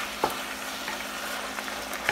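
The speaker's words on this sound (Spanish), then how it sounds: "Vamos a ver que el caramal se vaya cocinando." Calamari cooking in a pan for lobster and squid pasta, a soft, even sizzle with a few faint clicks of a utensil, fairly quiet and without talk.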